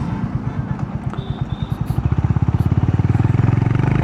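A Honda CB 350 motorcycle engine idles with a low, lumpy thump, then picks up into a steady, fast pulsing beat as the bike is eased through a tight U-turn, loud and close.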